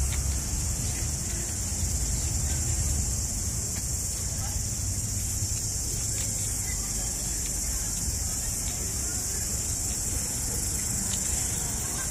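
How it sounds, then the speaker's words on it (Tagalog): Crickets chirp in a constant high-pitched drone, steady and unbroken, with faint low rumbling noise underneath. "Pakinggan nyo guys ang kuliglig."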